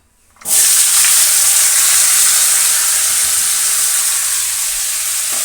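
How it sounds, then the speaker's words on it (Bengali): Vegetables dropped into hot oil in a kadai burst into a loud sizzle that starts suddenly and then holds as a bright, steady hiss, easing only slightly toward the end, with no talking. "এরপর কড়াইতে তেল দিয়েছি এরপর এই সবজিগুলো ভেজে নেব"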